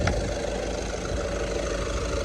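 The 1.6 engine of a 2011 Volkswagen Touran idles at a used-car market. It makes a steady, moderately loud rumble with no change in revs.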